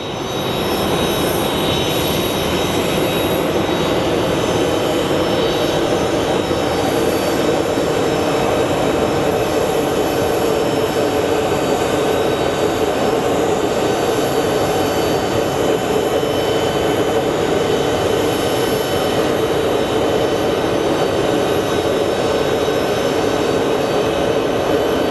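A Qatar Airways Airbus A340 airliner pushes back at Phoenix Sky Harbor, a constant loud broadband roar of jet engines and ramp noise holding steady and unbroken, with no voices.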